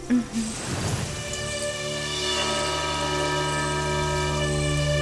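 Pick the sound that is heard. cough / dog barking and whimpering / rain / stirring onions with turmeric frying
rain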